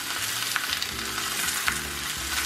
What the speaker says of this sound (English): The reason that we sear our meat before we make adobo is to create that caramelized color